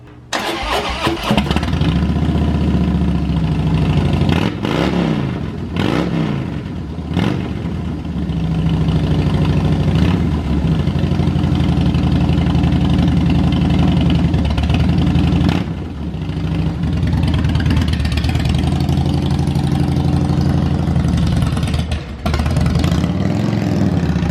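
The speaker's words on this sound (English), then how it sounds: "ride his motorcycle" On a warm day, a motorcycle engine starts and then runs loud and close at a steady idle, with brief dips and surges throughout.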